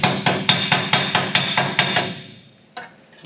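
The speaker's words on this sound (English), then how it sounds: "We're going to use a very expensive anvil here" A hammer strikes a rusty car donor panel on an anvil in a steady rhythm of about nine sharp ringing blows, then pauses before a single final hit.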